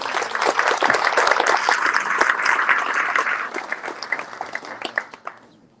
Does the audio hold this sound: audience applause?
yes